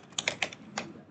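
A handful of quick, light key presses on a computer keyboard while entering the Ctrl F shortcut, heard as four or five close, crisp clicks in a quiet room.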